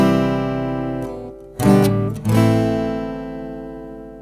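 Strummed acoustic-toned guitar chords in a short three-chord progression, the first hit ringing, then two fuller strums about half a second apart that sustain and slowly fade, played alone.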